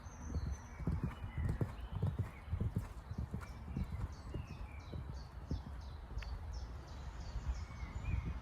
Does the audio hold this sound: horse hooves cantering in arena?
yes